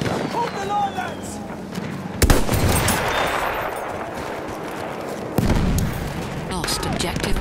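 Machine-gun fire and battle noise from Battlefield 1 fill the scene. Sharp, loud bursts erupt twice over a continuous din of shooting and distant explosions, with voices mixed in.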